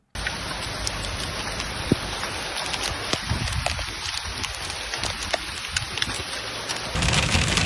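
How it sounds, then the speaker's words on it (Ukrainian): Hail pours down during a spring hailstorm in Lviv, a dense, steady patter of pellets striking surfaces with scattered sharper impacts, continuous throughout and louder at the end. "В телеграм-каналах з'явилося відео того, як на вихідних Львів засипало градом."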